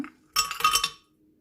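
Ice being dropped into a blender with chilled watermelon for a healthy watermelon smoothie, giving a brief, close burst of clinking and rattling that fades within a second.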